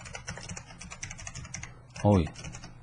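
Quick, light clicks of typing on a computer keyboard run close and steady for about two seconds, with a short voiced sound near the end.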